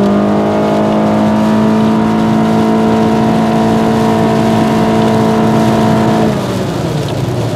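A 2013 Honda Accord EX-L at full throttle gives off a loud, steady engine drone with strong tonal harmonics that holds for about six seconds, then drops as the power eases off.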